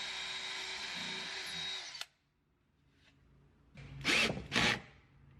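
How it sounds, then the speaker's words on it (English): A power drill bores holes in 3/4 inch plywood, a steady near whir for about two seconds that stops abruptly, followed after a pause by two short, loud grinding bursts. "I used 3/4 inch plywood and I drilled holes where I would insert the screws"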